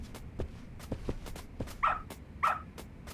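A dog in the video game Lost Judgment gives two short, clear barks close together near the end, over faint footsteps and background ambience.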